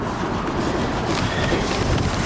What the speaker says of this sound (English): This train will stop before it clears me